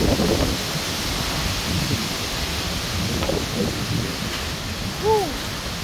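Typhoon rain and wind roar steadily during a storm in Negros, a thick wash of rushing noise with a few faint brief voices or animal calls underneath.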